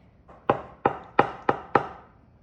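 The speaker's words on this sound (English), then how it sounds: "So let's go ahead and cut a slice. We should be able to just cut right through it." A knife cutting through a slice of baked fall treat, five crisp, evenly spaced knocks against the board, close and clear with no talking.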